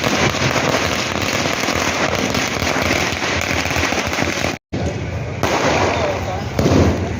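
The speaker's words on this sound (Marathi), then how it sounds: "समर्थकांनी फटाक्यांची आतषबाजी करीत" A dense, continuous barrage of celebratory firecrackers and fireworks outside a council office, crackling and popping loudly, briefly cutting out before resuming, with voices faintly mixed in.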